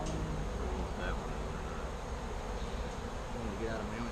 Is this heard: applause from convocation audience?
no